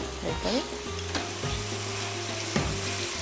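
Frying in Dalda ghee produces a steady close sizzle with a few stirring scrapes and clinks, a short burst of activity near the start, and no talking.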